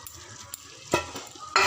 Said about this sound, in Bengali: ডিমগুলোকে ছেড়ে দিয়ে মশলাগুলোর সাথে ডিমগুলোকে নাড়াচাড়া করব